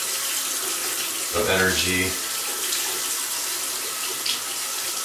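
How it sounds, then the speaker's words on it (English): A bathroom water tap runs in a continuous, even hiss, with a brief spoken phrase rising over the flow partway through. "I'm gonna turn the water on here."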